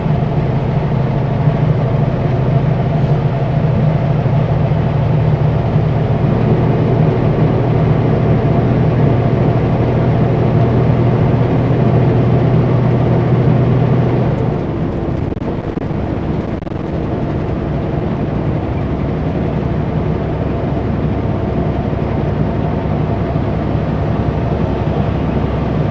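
A semi truck's engine drones steadily in the cab while climbing the snowy Coquihalla highway, a loud low rumble that eases and drops in pitch about halfway through as the throttle is let off, continuing as a softer constant hum.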